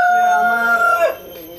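A rooster on a tiger chicken farm crows once, loud and close, a single drawn-out call that breaks off near the end, followed by faint farmyard background.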